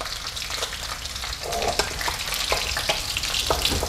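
Catfish fries in a pan with a continuous loud sizzle and crackle, punctuated by sharper spits and pops that grow busier partway through, heard up close without talk.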